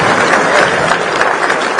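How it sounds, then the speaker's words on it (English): A school crowd in Nairobi claps for the president, a brief burst of dense, steady applause at close range with no voices on top. "Can we clap for the president?"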